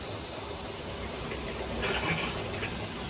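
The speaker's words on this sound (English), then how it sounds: "let's get the toilet flushed here a little bit" An RV toilet in a Lakota Colt living-quarters trailer being flushed during de-winterizing, clearing antifreeze from the lines: a steady, low rushing hiss of water with a brief swell near the end, no voices.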